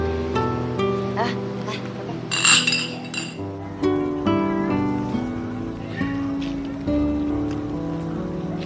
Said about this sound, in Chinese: 来，为弟弟弟媳妇儿干杯！